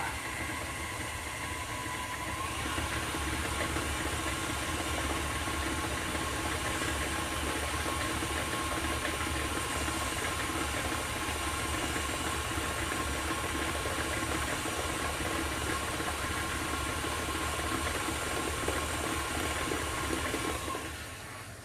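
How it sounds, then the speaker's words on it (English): Electric mixer beating cake batter with eggs and vanilla at medium-low speed: a steady, fairly quiet motor whir that runs unbroken for about twenty seconds with no talking. "You're going to mix on medium to low speed."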